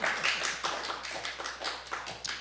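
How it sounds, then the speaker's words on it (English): A small audience at a talk on Harlem claps. The applause is close, scattered and brief, with no voices over it. "Clap, clap, please, please."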